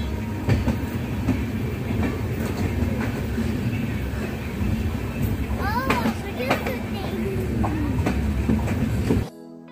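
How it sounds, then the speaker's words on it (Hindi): A passenger train pulls into Patna station and slows to a stop, with a continuous rumble, rhythmic wheel clatter and brief brake squeals near the end, while voices murmur in the background. "ट्रेन अभी रुकने वाली है।"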